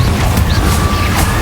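The explosive Confringo spell from Hogwarts Legacy goes off in a loud, close blast with whooshing, crackling bursts that fill the short moment.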